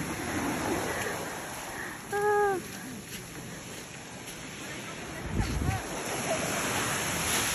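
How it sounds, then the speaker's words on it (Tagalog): Strong sea waves wash onto the shore at a beach resort in Bauan, Batangas, a steady surf hiss with wind, while people chat nearby and a brief whistle-like tone cuts through. "Ito, kalakas yung alon."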